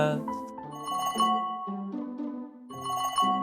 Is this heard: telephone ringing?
yes